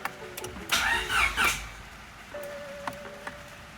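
A Chevrolet Silverado truck engine started with a push button: a brief cranking burst, then the engine catching and settling into a quiet idle with a faint steady tone and a few small clicks.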